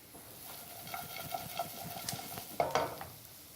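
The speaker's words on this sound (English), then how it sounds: "we're just going to allow that to fry for a few minutes" Almonds, garlic and lemon zest fry in a pan with a soft, faint sizzle under light clinks and scrapes of a spoon stirring, with a sharper metallic tap near the end.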